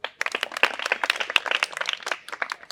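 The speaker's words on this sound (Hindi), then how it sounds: "वेरी गुड क्वेश्चन, ताली बजाए इनके लिए।" A seated audience at a talk on the Bhagavad Gita gives a short round of applause, a quick patter of many hands clapping that starts sharply and stays brisk for a few seconds.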